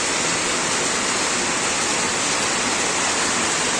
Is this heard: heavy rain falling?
yes